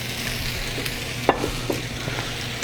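A spoon stirs stock into a thickening flour gravy for shrimp and grits in a hot pan, a continuous close sizzle broken by a few soft scraping clacks.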